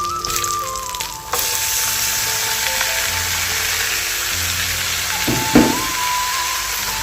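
Chopped bottle gourd frying in a pan with rohu fish head, a steady close sizzle running throughout, with a couple of brief clatters of stirring utensils near the end.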